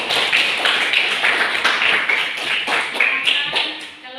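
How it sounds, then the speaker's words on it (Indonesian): A classroom of students claps in a quick, steady rhythm of close, sharp hand slaps that lasts the whole few seconds before tapering off at the end. "Ya, tepuk tangan."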